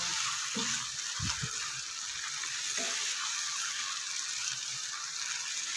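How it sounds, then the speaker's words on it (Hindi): Mutton keema frying with ginger garlic paste in a pan makes a soft, steady sizzling hiss, with a few dull knocks from stirring early on. "मटन के कीमन को अच्छे से भून लेना है, अच्छे से फ्राई कर लेना है अदरक लहसुन के पेस्ट के साथ"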